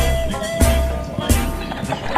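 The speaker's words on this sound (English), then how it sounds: "She tooted at a farm crossing, and a horse and cart halted while she went by." Hooves clip-clop steadily on a hard surface with a rumbling background, a couple of sharper knocks standing out as a horse and cart passes nearby at a farm level crossing.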